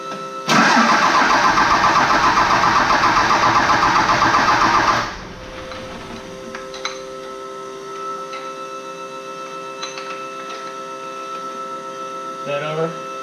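A 12 valve Cummins diesel engine in an 850 hp build cranks and fires with a loud sustained roar, then drops to a steady rumbling idle with small throttle blips.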